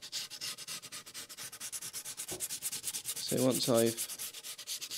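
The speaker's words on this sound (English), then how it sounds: "if we touch this top with 120 grit sandpaper, we're going to have 120 grit scratches in it" Rhythmic back-and-forth rasp of 120 grit sandpaper worked along a guitar body edge, steady close strokes with a brief spoken phrase in the middle.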